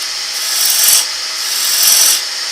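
Bowl gouge cutting away the corner of a wooden bowl blank on a lathe, two rasping sweeps of the cut rising and falling in a slow rhythm, close and clear with no talking.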